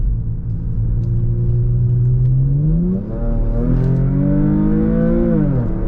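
A Jaguar XF 3.0 V6 petrol with its exhaust backbox deleted revs while driving, a loud, deep rumble that rises through the gears, dips at a shift and climbs again, heard alone with no talking.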